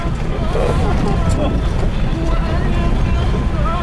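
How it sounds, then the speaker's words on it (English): An off-road vehicle drives across the sand of the White Desert in Egypt, its engine and tyres making a loud, steady rumble mixed with wind buffeting, with voices faintly under the noise. "driving in the desert"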